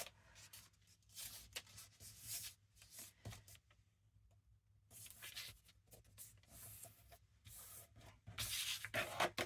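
Paper being folded and pressed by hand while making an over-the-page ephemera pocket with a small flap, heard as close, soft rustling and crinkling bursts with quiet pauses between them.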